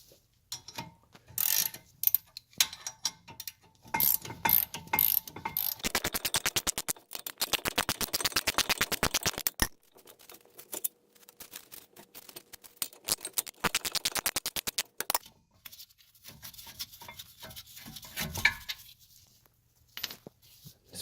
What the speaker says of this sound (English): Also makes it a lot easier if you've got a ratcheting ratchet like this one,